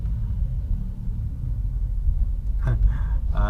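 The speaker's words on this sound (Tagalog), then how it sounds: "Grabe ang traffic din dito." Road traffic in Baclaran heard from inside a car, a steady low engine rumble throughout with a few brief higher mechanical sounds near the end, no voices.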